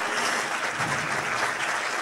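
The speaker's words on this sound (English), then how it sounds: "Big round of applause there." Audience applause at the Singapore Maritime Lecture 2015, a steady wash of many hands clapping at close range that holds an even level throughout, with no voices over it.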